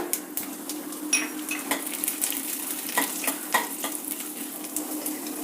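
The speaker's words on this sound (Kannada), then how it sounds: "ಎಣ್ಣೆ ಕಾದಿದೆ ಸಾಸಿವೆ ಹಾಕೋಣ ಇವಾಗ ಕಡಲೆಬೇಳೆ ಸ್ವಲ್ಪ ಉದ್ದಿನ ಬೇಳೆ" Mustard seeds, chana dal and urad dal sizzle and crackle in hot oil in a frying pan, a steady close frying hiss broken by sharp popping seeds and the clink of a stirring spoon.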